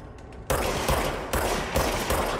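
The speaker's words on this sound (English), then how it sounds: "Oh, they've got actual guns." Enemy guns firing in the game Control: dense, loud bursts of rapid gunfire start suddenly and keep going as continuous rattling volleys with surges in intensity.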